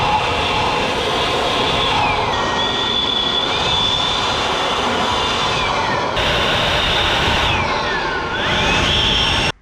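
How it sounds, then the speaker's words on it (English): An air blower forcing air through the valves of a Toyota 7K turbo engine's cylinder head: a loud, continuous rushing hiss with whining tones that rise and fall as the flow shifts, cutting off abruptly at the end. "Throw a bit of force there with the blower through there, and see how much air still escapes."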